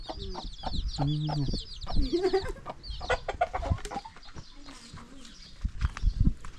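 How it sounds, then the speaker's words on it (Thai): Chickens cluck busily nearby with a rooster among them, a loose run of clucks and squawks with occasional voices in the background. "ไก่ตีบ่"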